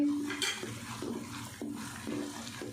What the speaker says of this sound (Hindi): भूनते हुए हल्का से इसको चला लेंगे।